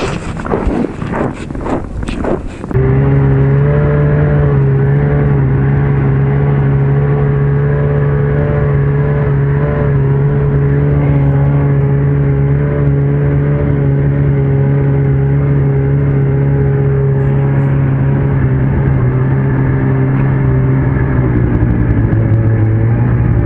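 A vehicle heading out on a first-ice fishing trip drives steadily, a loud, even engine drone with a constant low hum and road rumble lasting throughout after a brief rustling start, with no talk.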